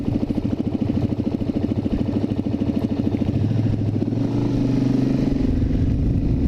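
Suzuki DRZ400 motorcycle engine running steadily while riding, its loud mid-pitched thrum rising and settling as gears shift, with a sustained tone change partway through.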